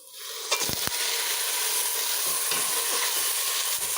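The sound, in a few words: chicken frying in a pan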